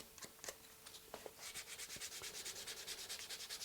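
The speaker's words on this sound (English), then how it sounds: "I'm going to run the 320 grit along the entire edge of the strap." Sandpaper of 320 grit rubs along the edge of a leather guitar strap, a few scattered scrapes giving way to quick regular back-and-forth strokes, close and fairly quiet.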